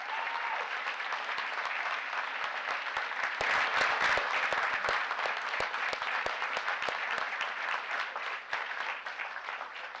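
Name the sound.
audience round of applause for youth baseball team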